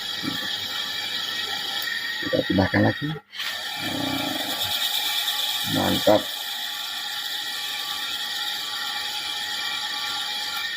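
A single-tub washing machine's dynamo motor, repaired after dying completely, spins fast with a steady mechanical whir and ratcheting hum, briefly interrupted near the start while someone speaks over it.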